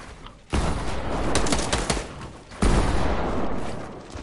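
Video game gunfire crackles in dense rapid bursts, loud and continuous through the clip with a renewed surge partway in, without speech.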